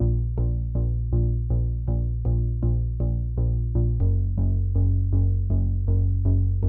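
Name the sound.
distorted synthesizer bass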